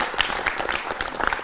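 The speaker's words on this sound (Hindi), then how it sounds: "स्वागत कीजिएगा तालियों के साथ" Studio audience on a televised Hindi debate show applauds to welcome a panelist, a short burst of dense clapping at moderate level.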